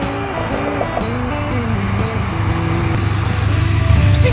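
A cheap race car bought off Facebook Marketplace revs hard while its tires spin, the engine note climbing and wavering loudly and close throughout, with no pause.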